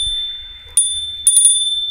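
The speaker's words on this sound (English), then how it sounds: "I have a bell." A small ritual bell on a goddess altar rings once, then three quick strikes follow in succession, bright and close, over a quiet room with a faint low background hum.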